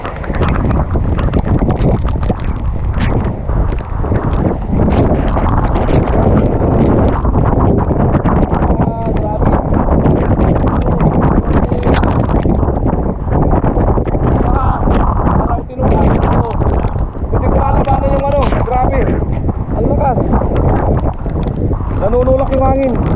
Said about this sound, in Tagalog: Nanunulak yung hangin.